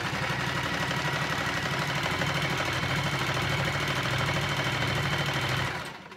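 A sewing machine running steadily while stitching a narrow circular hem on fabric for pyjama bottoms, a dense continuous mechanical whirr that holds at a constant level before winding down near the end, with no talking.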